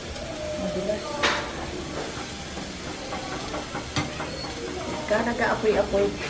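Pork neck sizzles and flares on a grill over fire, a steady hissing crackle with brief bursts as fat and sauce hit the flames, with a voice talking over it.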